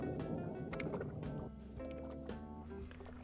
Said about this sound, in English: You're probably getting annoyed by the noise from my trolling motor.